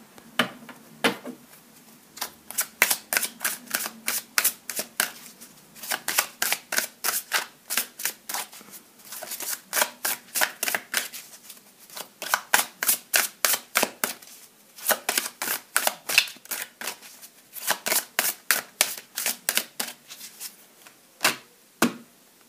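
Playing cards are shuffled and drawn in quick rapid riffles, close and crisp, coming in repeated bursts with short pauses between them and no talking.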